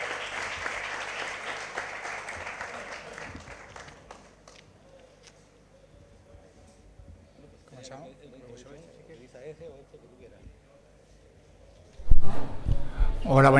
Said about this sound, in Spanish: muchísimas gracias, un aplauso para ellos